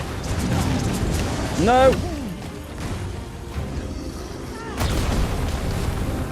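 A Dragon's Dogma 2 explosion strikes a monster's leg, heard as a booming crash with a low rumble and a whooshing tail. A player's voice shouts over the blast.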